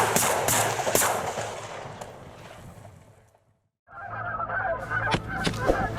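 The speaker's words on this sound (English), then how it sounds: "Here's how people hunt dozens of Canadian geese in a day" Canada geese honk loudly during a goose hunt on a rainy, windy day, with sharp gunshot-like bangs mixed in, a brief silent gap, then more honking and shots.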